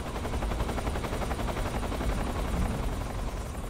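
A helicopter in the video game Metal Gear Solid 3 hovers nearby, its rotor thumping in a fast, steady pulse over a constant engine drone, loud and unbroken with no talk.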